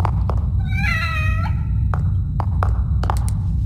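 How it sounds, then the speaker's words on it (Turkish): In The Evil Within, a cat gives a single clear meow over a steady low rumbling game ambience, with a few soft thumps and clicks around it. "Kedi."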